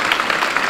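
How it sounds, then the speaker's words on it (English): Applause from the audience at a foundation launch event held at the Imperial War Museum, a brief, dense patter of many hands clapping at steady volume. "A round of applause finally for Cameron Foster."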